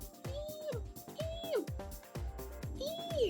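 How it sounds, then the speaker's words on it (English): Hungry kittens meowing, three rising-then-falling mewing calls spaced about a second apart, close and fairly loud over a low background with some speech-like noise. "Hungry kitten noises."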